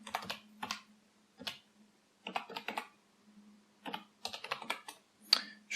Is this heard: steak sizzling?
no